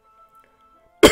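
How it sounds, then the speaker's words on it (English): A single sharp cough bursts out at close range at the very end, after near silence. "Pardon my cough."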